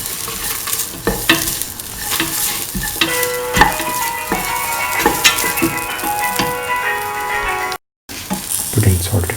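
Snake gourd sautés in a pan for a coconut milk stew, with a continuous sizzle broken by repeated scraping and clinking stir strokes, close and fairly loud, and a short silent gap near the end.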